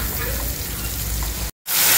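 Cumin, salt and turmeric sizzling as they are sautéed in a pan, a continuous hissing fry noise with faint stirring. The sound cuts out briefly near the end, then resumes louder.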